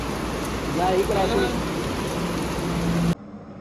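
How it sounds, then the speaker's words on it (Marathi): A steady, dense hiss of heavy rain pours down throughout, with faint voices murmuring beneath it before the sound cuts off abruptly. "पाऊस बी असा जोरदार आहे."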